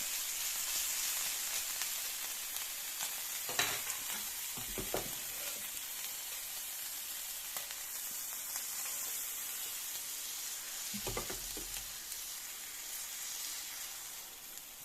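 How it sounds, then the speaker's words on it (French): Ham grills in a frying pan alongside pancake batter, producing a quiet, even sizzle that runs steadily for a long stretch, with a few faint clinks of utensils. "Et je rajoute un peu de jambon. Voilà, on va laisser griller un souya."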